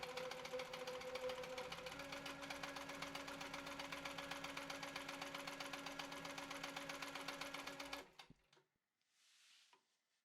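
A sewing machine quilts fabric guided along a HandiQuilter dual-edge ruler with a quarter-inch foot, running in a fast, steady, even stitching rhythm for about eight seconds, then stopping abruptly, followed by a faint soft rustle.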